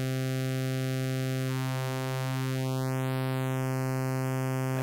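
Synthesizer tone from Arturia Pigments 3 passed through a notch filter, a steady harmonic buzz with a dark notch sweeping down then up through the spectrum before settling high; sustained and even, with no voices.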